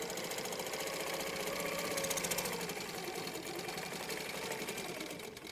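A Handi Quilter longarm quilting machine stitching along a ruler, a fast, steady mechanical chatter of the needle running continuously at close range, fairly quiet and without talk.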